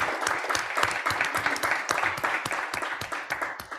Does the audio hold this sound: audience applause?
yes